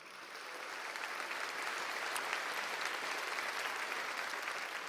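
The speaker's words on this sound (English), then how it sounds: "y'all clapping for these locks" Sustained audience applause at a National Association of Broadcasters awards ceremony, a dense, steady wash of clapping that swells in over the first second and holds at an even level throughout.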